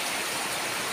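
Gusty rain pours steadily as a dense, even hiss outdoors, soft and continuous without distinct drops or voices.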